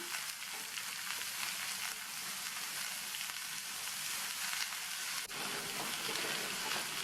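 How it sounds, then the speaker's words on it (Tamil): Capsicum sautéing in hot oil with salt: a continuous faint, even sizzle and crackle, with one small tap partway through. "குடமிளகாய் சேர்த்து 1 நிமிஷம் போல் வதக்கியாச்சு."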